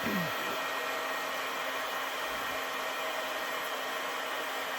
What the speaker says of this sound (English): Put the heat gun down.